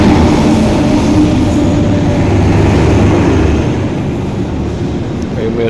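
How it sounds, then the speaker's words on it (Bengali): A mail train rolls into Nabadwip Dham station with a loud, continuous rumble and rattle of wagons that stays steady and close, easing slightly toward the end. "এই যে আমাদের ট্রেন ঢুকছে।"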